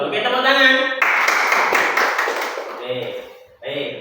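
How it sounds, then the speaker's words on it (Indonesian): Classroom students clapping hands together during a religious studies lesson, a burst of claps lasting a few seconds between stretches of a teacher's speech. "Oke, tepuk tangan."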